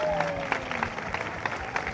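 Crowd applause breaks out at a band parade in Santa María de Dota, scattered clapping heard under someone talking over a loudspeaker.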